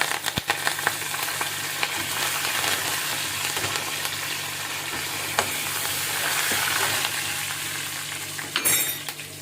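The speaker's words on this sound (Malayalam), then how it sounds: "ഇനി ഒരു വറ്റൽമുളക് ഇട്ട് കൊടുക്കാം. കറിവേപ്പില ആവശ്യത്തിന് ഇട്ട് കൊടുക്കാം." Dried red chilli and curry leaves fry in hot oil for rava kichadi, giving a continuous loud, close sizzle with light stirring throughout and a brief metallic clatter near the end.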